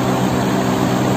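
A York air conditioner fan motor runs as a loud, steady, close whirring hum with no breaks for the short moment it is heard.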